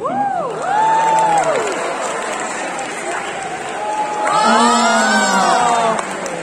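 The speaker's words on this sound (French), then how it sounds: "Donc vous pouvez l'applaudir parce que c'est votre représentant." Audience at a cosplay contest in Nantes cheers and applauds in loud swells, with shouts and whoops over a steady crowd roar and voices rising above it.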